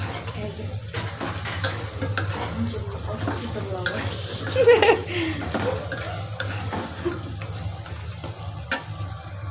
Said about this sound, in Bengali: মশলা কষানো শেষ এখন হচ্ছে মাংস দিয়ে দিলাম